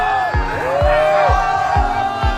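A crowd at a fight event screaming together in a loud, sustained roar with rising and falling pitch, punctuated by regular low thumps about every half second.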